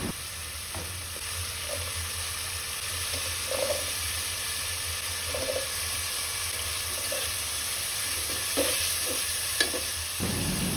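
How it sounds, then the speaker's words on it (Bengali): Spices with a little water are sautéed in a pan, producing a continuous bubbling sizzle with scattered stirring clicks and scrapes. "একটু পানি দিয়ে আমি সবগুলোকে খুব সুন্দরভাবে একটু কষিয়ে নিচ্ছি"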